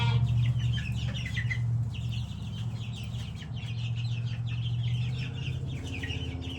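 Rhode Island Red and Leghorn chickens clucking steadily inside a cage, several birds chattering close by over a constant low hum.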